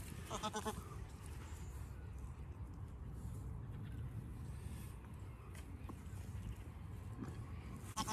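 Goats on a smallholding bleat while feeding on garden trimmings, a few cries near the start and scattered fainter calls over steady low outdoor rumble.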